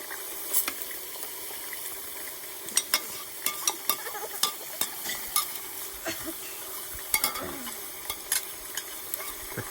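Beef sizzles in a pan with ginger garlic paste while a utensil stirs and scrapes, producing a continuous frying hiss broken by frequent sharp clicks and knocks against the pan.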